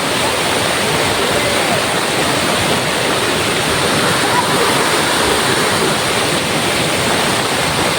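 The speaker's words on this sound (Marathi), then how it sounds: "बघा इथे पाण्याच्या जोर आहे इथं." Strong floodwater rushes after heavy rain in a village, a loud, constant roar close by that fills the whole stretch.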